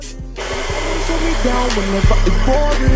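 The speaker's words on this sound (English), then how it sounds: "I'm gonna use my blow dryer. Just a little bit." A hair dryer blows with a steady, loud whirring hum that runs continuously, with a few brief bumps and handling noises along the way.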